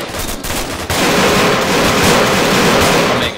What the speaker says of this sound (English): I can hear the sound of the gunfire